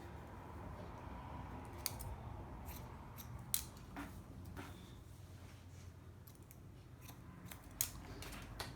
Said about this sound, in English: I'm combing it and cutting it the way it falls naturally.